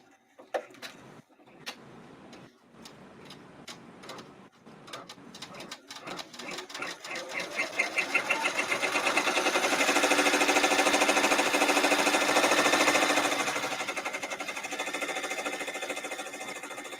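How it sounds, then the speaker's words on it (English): An embroidery machine works an in-the-hoop pouch, starting with scattered separate stitch taps that quicken into a dense, continuous whirring run as it tacks down and outlines the pouch, close and fairly loud before easing off. "the next stitch should tack this down, and it'll do the outline of the entire pouch"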